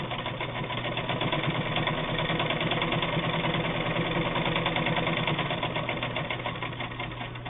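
A Bel Air Precision De Luxe sewing machine runs continuously through two layers of heavy denim, a loud close motor hum with fast even needle chatter throughout, no talking.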